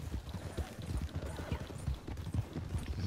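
Horse hooves clip-clop steadily in Red Dead Redemption 2, a close, continuous run of soft thuds in an uneven trotting rhythm, with faint speech mixed in at times.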